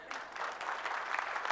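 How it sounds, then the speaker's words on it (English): A seminar audience at a Scrum gathering in Hyderabad claps together, a brief, fairly faint burst of dense applause that swells slightly and holds steady without speech. "You want to clap for yourself?"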